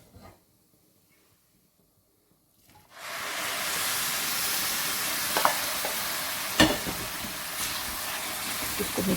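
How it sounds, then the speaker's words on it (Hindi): Sugar syrup poured into semolina frying for dry halwa sets off a sudden loud, close hissing sizzle after about three seconds of near silence, holding steady with a few sharp clinks and stirring scrapes. "अब इसमें अपना शीरा डाल देते हैं।"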